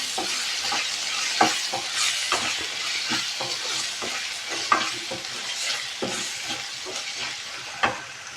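Ginger garlic paste frying in a pan for a mushroom fry, giving a steady close hiss and sizzle with frequent sharp scraping strokes of a spoon stirring throughout.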